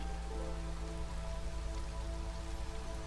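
Steady rain in the drizzle season of the video game Against the Storm, a dense, even patter of drops on surfaces that continues without a break, with a faint tonal hum beneath.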